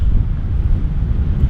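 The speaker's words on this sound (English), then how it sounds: "it's really hard to control my boat in the wind" Strong wind buffets the microphone on the River Spey in Scotland during a paddle toward the sea, a loud continuous low rumble with gusty swells and no talking.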